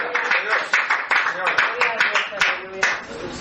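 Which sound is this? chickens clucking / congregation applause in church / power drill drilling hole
congregation applause in church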